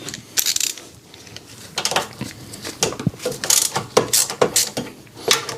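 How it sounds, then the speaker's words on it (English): Bolts come out of the aluminium side cover of a Honda GX160 engine, a run of sharp metallic clicks and ratchet ticks at close range with scattered clanks, no voices. "So now, let's remove the side cover. 10 millimeters."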